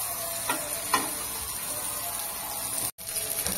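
Okra fries in a spoonful of oil in a pan on a gas stove, a steady hissing sizzle with a few soft stirring scrapes and a brief dropout near the end.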